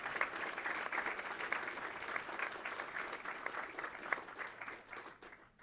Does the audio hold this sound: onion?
no